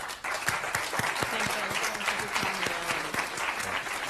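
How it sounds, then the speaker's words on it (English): Audience applause fills a World Economic Forum meeting hall in 2022, a steady, dense wash of clapping heard at moderate distance with some faint low tones underneath. "And the applause"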